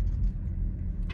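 A van's engine idles low and steady while parking at a Cracker Barrel lot in Albuquerque, a constant close rumble with no talk.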